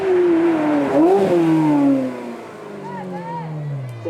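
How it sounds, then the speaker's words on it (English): A naturally aspirated Ferrari V8 revs hard and howls, the pitch rising then falling away as the revs drop, loud and close. "Listen to this Ferrari howl."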